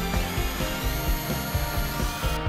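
A power drill with a 4.0 mm bit bores holes, giving a steady, close, loud whirring drone with slight rhythmic pulsing throughout and no talk.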